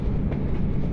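A train rumbles at a railway station platform with a steady, loud, low roar and faint rhythmic rattling of rail cars, heard close with no talk.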